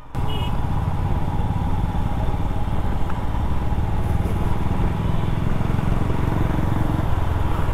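A motorcycle engine drones steadily and loudly on a Sunday ride along a main road, with continuous wind rumble and no pauses.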